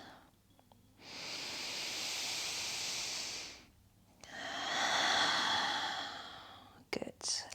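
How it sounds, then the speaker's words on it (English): Slow, audible breathing during a gentle evening floor yoga session: a long airy inhale of several seconds, a pause, then a fuller, louder exhale, close and soft with no speech. "Just giving yourself a permission just to rest and let go. Another round of breath."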